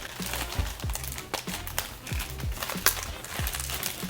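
Plastic bag wrapping crinkles and crackles while a package is unboxed by hand, with repeated close, sharp rustles and a few low thumps of handling.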